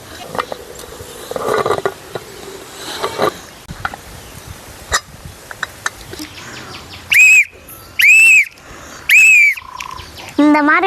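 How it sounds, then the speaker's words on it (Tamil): A pressure cooker on the stove releases three loud, sharp whistle blasts in quick succession while chicken biryani cooks, following a stretch of quieter kitchen sounds and clatter. "இந்த மாதிரி நல்லா விசில் வந்தாதாங்க பிரியாணி நல்லா ரெடி ஆயிடுச்சுன்னு அர்த்தம்."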